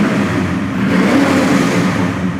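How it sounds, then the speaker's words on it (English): A 1965 Chevelle restomod's 383 stroker V8 revs through a dual exhaust, a loud, close, steady throaty roar rising slightly over a brief stretch. "383 stroker underneath the hood, good sounding dual exhaust."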